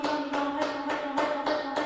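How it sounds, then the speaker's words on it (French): Hands clap in an even, steady rhythm during a family exercise session, six or seven crisp claps in under two seconds, close and fairly loud. "Et on ne fait qu'applaudir."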